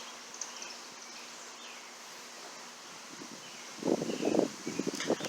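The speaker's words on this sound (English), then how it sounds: "because the wind is blowing" Wind rustles leaves outdoors. A faint airy hush gives way to a louder burst of close, crackling rustling near the end.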